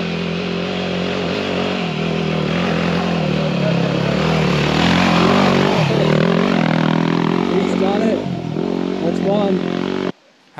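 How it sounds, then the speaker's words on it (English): A dirt motorcycle engine drones and revs loudly and continuously as the bike climbs a steep hill track in the Victorian High Country, close by, with some faint talk. "I want to watch a bike come up it because it felt pretty steep"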